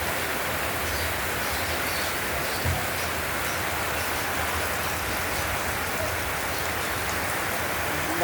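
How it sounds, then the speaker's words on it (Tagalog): Steady rain falls on a grey June afternoon with no wind, an even, moderate hiss of drops on surfaces throughout, with one faint thud partway through. "hindi, wala namang hangin, ulan lang siya."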